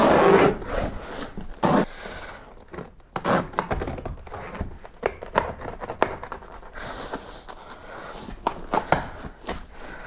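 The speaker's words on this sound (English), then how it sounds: "I'm just gonna continue this cut into this corner here." Utility knife slicing wall-to-wall carpet into a room corner, with close, loud ripping and rasping cuts in uneven strokes along with scraping and tugging of the backing.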